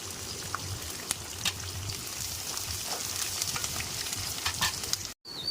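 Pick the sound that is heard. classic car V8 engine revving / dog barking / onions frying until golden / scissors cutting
onions frying until golden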